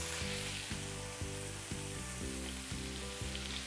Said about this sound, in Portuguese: na outra panela, eu vou colocar um pouquinho de manteiga. Vou acrescentar os cogumelos